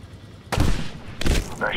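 Two sharp, loud sniper rifle shots in a Medal of Honor mountain-war mission crack out about three-quarters of a second apart, each with a short booming tail.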